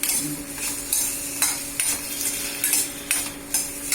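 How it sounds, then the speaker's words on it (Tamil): A utensil scrapes and stirs chopped okra in a pan, with rhythmic metallic strokes roughly every half second over a soft sizzle, close and without speech. "இதை ஒரு ஒரு நிமிஷம் மட்டும் வதக்கினா அது போதும் இதுலேயே வதக்கிக்கலாம்"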